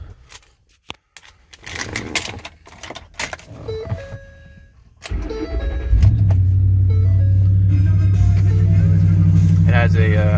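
A 2010 Ford F-150 two-wheel-drive gas pickup with an aftermarket exhaust cold-starts after some key and door clatter, then settles into a loud, steady, deep idle rumble with talk over it.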